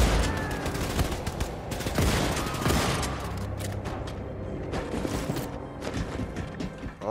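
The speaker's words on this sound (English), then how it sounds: "Better switch to that shotgun" Shotgun blasts and surrounding gunfire in the video game Wolfenstein II: The New Colossus, a steady barrage of booming shots and mechanical clatter throughout.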